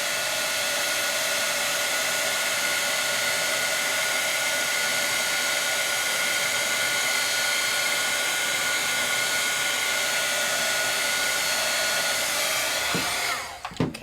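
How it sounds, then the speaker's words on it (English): Steady, loud hot-air heat embossing tool blowing nonstop on embossing powder over paper, a constant airy whir that cuts off near the end. "I'm moving my heat tool."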